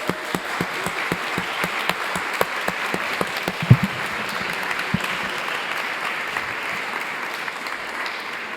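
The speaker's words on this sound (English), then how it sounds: "maybe we can do like a short applause for Michael Sollinger for the 40th anniversary" An audience at an art event applauds Michael Sollinger's 40th anniversary, with individual claps standing out over a steady patter that holds for the whole stretch, one sharper hit near the middle.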